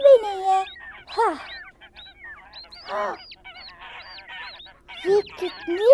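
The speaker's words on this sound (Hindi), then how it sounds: "ये कितनी प्यारी बत्तख है।" A duck gives a series of loud, nasal, honking quacks in separate bursts, with short quiet gaps between the calls and no other sounds.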